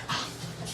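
A sick small dog coughs, a brief rough, breathy sound, close by, lasting under a second.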